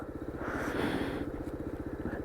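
A Honda CT110 motorcycle engine chugs in second gear, a close, rapid, even thumping pulse that keeps a steady rhythm throughout, fairly quiet and with no talk over it.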